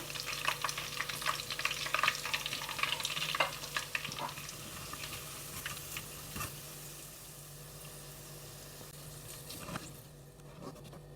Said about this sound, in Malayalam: ഇനി നമുക്ക് ഇതെല്ലാം ഒന്ന് എണ്ണയിൽ നിന്ന് കോരാം